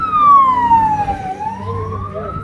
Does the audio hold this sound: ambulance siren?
yes